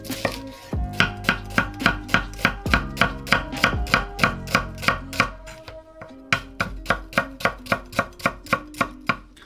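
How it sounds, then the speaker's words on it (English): Knife chopping onions thinly on a board for smash burgers: a steady run of crisp, evenly spaced cuts, about two or three per second, close and alone. "you just want to cut your onions as thin as possible"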